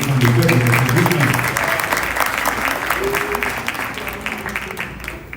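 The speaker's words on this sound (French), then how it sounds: "je vous prie d'applaudir ces deux virtuoses qui nous ont entretenus pendant le cocktail" Dense applause from an evening event audience for two musicians who played during a cocktail reception, loud and close and fading gradually, with a voice speaking over it.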